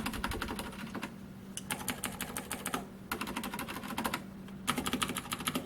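Steady bursts of mechanical key presses on a Velocifire VM01 keyboard with brown-style tactile switches, close and clear, continuous typing with brief pauses between runs.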